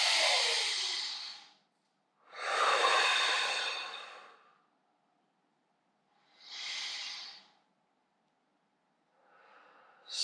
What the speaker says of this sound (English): So I want you to keep that breathing technique going.